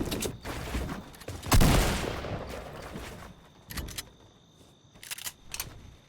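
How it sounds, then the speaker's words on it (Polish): Enemy gunfire in Fortnite, a few sharp cracking shots with one loud burst early on and quieter scattered shots after, set against a steady background hum. "znowu do mnie strzela, widzicie?"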